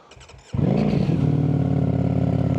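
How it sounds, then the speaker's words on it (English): After a brief starter whir, a 2025 Ducati Streetfighter V4 S engine catches from a cold start with a sudden roar and settles into a loud, lumpy, steady idle close by. "I'll give you a bit of a listen to it. Cold start."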